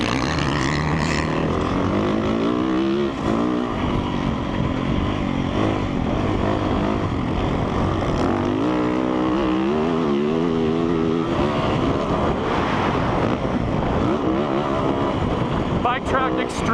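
A 2017 Yamaha YZ450F motocross bike is ridden around a dirt track. Its engine note sits close and loud throughout, revving up and dropping off through corners and straights.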